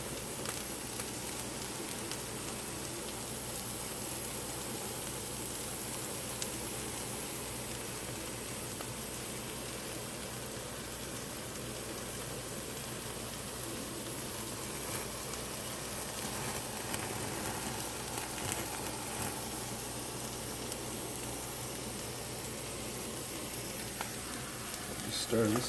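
Meat sizzles steadily in a pan while being stirred for ramen, a constant soft crackle and hiss with occasional scraping, fairly quiet and close, with no voices over it.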